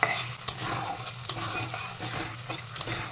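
Ground masala for Bengali mutton kosha stirred and fried in a pan, a steady close sizzle broken by several sharp scraping stirs of a spoon against the pan, with no voices.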